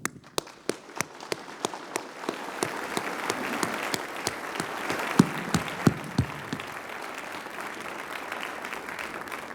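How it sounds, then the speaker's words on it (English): Audience applause at a Northwestern Engineering PhD hooding ceremony, a few sharp distinct claps at first swelling into steady crowd clapping with loud individual hand strikes standing out through the sound. "I think it is very fitting that we thank this enormously cast of important people with a round of applause."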